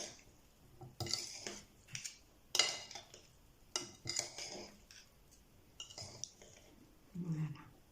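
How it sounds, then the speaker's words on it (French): Utensils scraping and clinking in a bowl as a potato and egg salad with thick vinaigrette is stirred, in irregular close bursts with a few sharper knocks and a brief low thud near the end. "Et je mélange."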